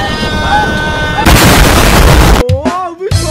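A loud, roughly one-second Minecraft explosion bursts out mid-clip, set in a village that changes into a mysterious one, with tonal game sounds before and after the blast.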